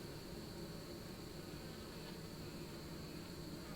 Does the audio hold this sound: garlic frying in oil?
no